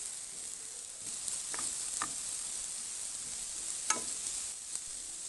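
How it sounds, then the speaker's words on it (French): Diced green bell pepper sizzling in a hot frying pan during Moroccan home cooking, a steady soft hiss with a few faint pops and stirring clicks, no voices. "J'ajoute aussi un poivron vert que j'ai coupé en petits cubes."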